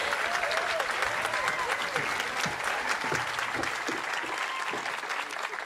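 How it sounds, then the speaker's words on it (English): An audience applauds after a singer performs a song: dense, loud, sustained clapping from a crowd that holds steady and tapers only slightly by the end. "Another round of applause"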